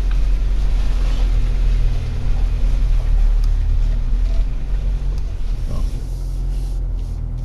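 A Renault Alaskan pickup's engine rumbles steadily as it climbs a short slope out of water, close and loud with wind noise over the microphone and no talk.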